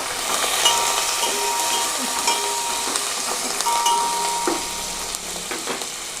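Mustard seeds, chana dal and curry leaves sizzle and crackle in hot oil as a tempering for lemon rice, a close, steady frying hiss with light clinks of a spoon stirring the pan.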